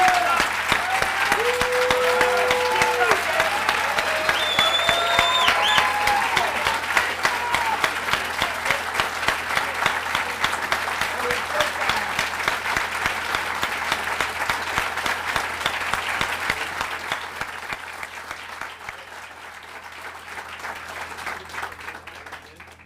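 Sustained applause from an audience honoring new Marine Corps recruits at a school military recognition ceremony, steady dense clapping with a few voices, slowly fading toward the end.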